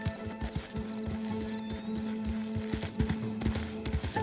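Horse hooves clip-clop in a steady walking rhythm from a mount in the Red Dead Redemption 2 video game, close and moderately loud over a low ambient hum and faint game background sounds.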